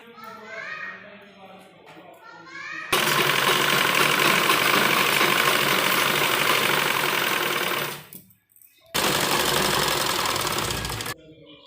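Voices and a child's speech are heard briefly before a sewing machine stitching a semi patiala salwar starts up, running in a loud, fast, continuous whir, stopping once briefly and then resuming.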